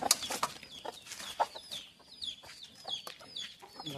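Hens of a rare breed cluck on a farm in a run of short, fairly faint calls, with several birds overlapping and no talking.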